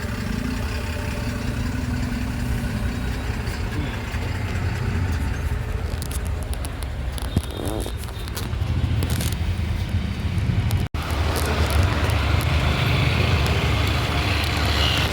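Vehicle interior noise from a car driving near the India–Nepal border gate, a steady engine hum and road rumble throughout with a brief thump partway through, no talk.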